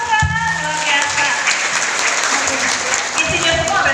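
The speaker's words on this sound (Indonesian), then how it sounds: "Tepuk tangan, luar biasa." Applause from an audience at an Indonesian seminar session, a steady wash of clapping throughout, with a voice and some background speech mixed in underneath.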